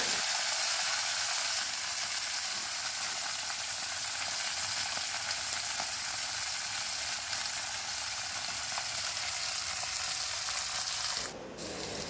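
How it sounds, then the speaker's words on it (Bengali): Bitter gourd frying in plain oil, a steady broad hiss of sizzling that holds evenly for about eleven seconds before dropping away abruptly near the end, with no voices. "আমি করলাটা শুধু তেলেই ভেজে নেবো"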